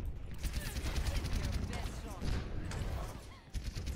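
Rapid, dense gunfire from the Overwatch video game, a busy mix of rattling shots and game effects that continues steadily throughout the clip.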